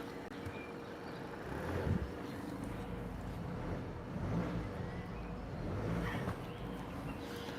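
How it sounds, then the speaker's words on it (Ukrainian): A cold car engine idles steadily with a low rumbling drone and slight swells, heard from close by, with a faint voice in the background. "Але двигун працює рівно"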